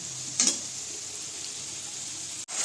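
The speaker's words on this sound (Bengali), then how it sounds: "আলু ভাজা হচ্ছে।" Potatoes fry in a pan with a constant, even sizzle close by. A brief clatter comes near the start and a short break near the end, with no talking.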